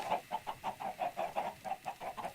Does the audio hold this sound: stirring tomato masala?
no